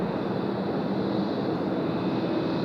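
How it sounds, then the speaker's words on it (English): Korean Air Boeing 787-10 jet arriving at Sydney Airport, its engines producing a broad, steady rumbling roar that holds at a constant loudness throughout without any voices. "Our next arrival is the feature aircraft of today's show, the Korean 401, operated by the 787-10 variant for the very first time"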